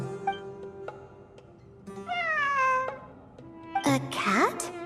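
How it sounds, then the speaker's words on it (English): A cat meows several times in Genshin Impact, rising and falling calls heard over soft background game music, with a louder, more insistent cluster of meows near the end. "I'm not hearing things. It really is a cat."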